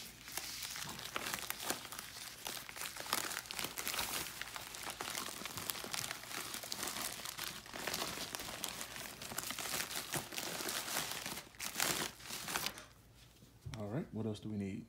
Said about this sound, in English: let's get this in the padded flat rate envelope